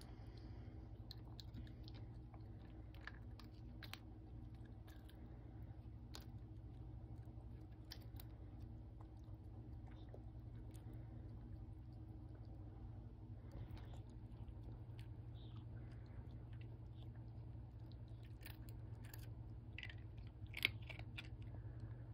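Dog gnawing on a big bone close by, quiet repeated wet chewing and crunching clicks scattered over a low steady background hum, with no voices.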